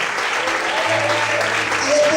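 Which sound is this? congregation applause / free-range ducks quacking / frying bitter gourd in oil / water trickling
congregation applause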